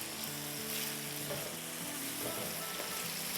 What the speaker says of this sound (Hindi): चले हमारे आलू फ्राई हो रहे हैं